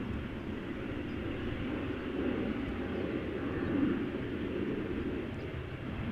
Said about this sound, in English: So here is another Air Baltic A320, this one in the standard livery going to Riga.